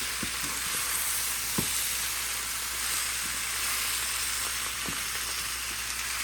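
Food cooks in a pot with a loud, dense, continuous sizzle and frying hiss, close and steady throughout, with a few faint utensil taps underneath and no speech.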